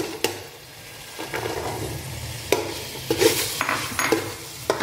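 Cooked chickpeas go into a simmering tomato gravy in a pan, with spoon clanks and scrapes against the metal over a low, steady sizzle.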